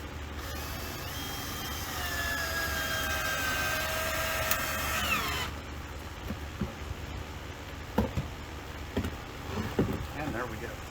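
A power drill drives screws into a piece of wood fastened beside a ceiling stud, whirring steadily and close with rising and falling pitch for several seconds. A voice speaks over it, and quieter knocks follow once it stops.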